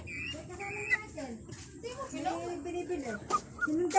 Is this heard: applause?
no